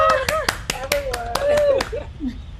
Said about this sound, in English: I want to just clap and woo!